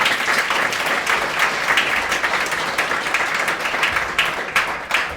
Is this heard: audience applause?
yes